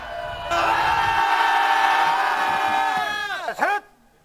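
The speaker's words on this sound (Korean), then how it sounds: "아침부터 들리는 함성 소리가 그 용맹함을 증명합니다." Students at a military-style morning drill at a boarding cram school in Pocheon, Gyeonggi, shout together in one sustained, loud unison roar that holds for about three seconds and then breaks off into a few trailing voices.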